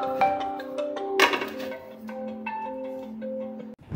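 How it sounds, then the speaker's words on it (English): A phone ringtone plays a short melodic tune of bright, sustained electronic tones, close and clear, with no talking. "This is the original sound of the phone."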